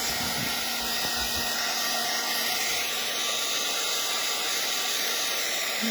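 A heat tool blows a steady, loud airy roar close by while warming a curling inked card for a Stampin' Up! mini album, continuous and unbroken throughout.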